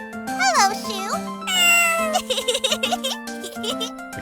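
A human voice imitates Shu the cat meowing in an Ace Attorney fan dub: several bright, wavering meows followed by a run of quick, giggly chirps, loud and up close.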